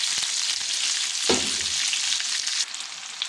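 Onions seasoned with salt and pepper sizzle steadily in a hot pan after meat has been browned and removed, a dense continuous frying hiss with a brief clatter of stirring partway through.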